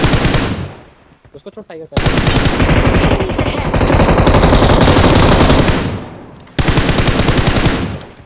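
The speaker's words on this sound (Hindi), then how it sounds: "अब जैसे हमने इनको मारा तभी हमें फायरिंग सुनाई देती है, वो भी रियल बंदों की" Sustained automatic gunfire from enemy players in a multiplayer shooter video game, loud and dense, rattling in long bursts that fill most of the clip and pausing briefly near the start, with a voice speaking over it.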